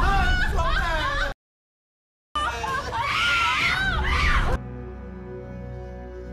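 Several people scream in shock, high and strained, with laughing-like cries mixed in, broken by a second of silence, then fading into a low musical drone.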